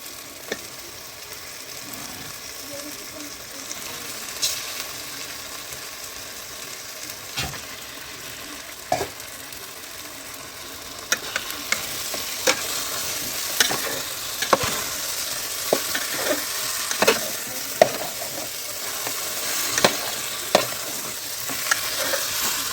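Meat goes into a hot pan and fries, a soft hiss swelling into a louder, busier sizzle with frequent spoon scrapes and clicks as it is stirred.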